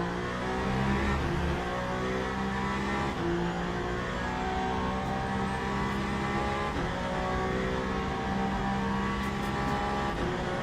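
A Ferrari hypercar engine revs hard in Le Mans Ultimate during a WEC Bahrain race, a loud, steady high-pitched roar with layered harmonics that rises and falls slightly through gear shifts, no talk.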